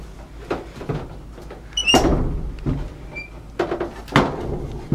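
An old wooden bottom door in a castle tower room at Gillette Castle opens downward with a series of knocks, creaks and heavy thumps, close by and uneven in rhythm.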